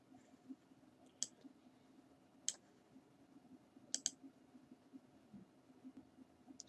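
Sharp computer mouse clicks in a quiet room: four or five crisp, isolated clicks spaced a second or more apart, two landing close together, over a low steady hum.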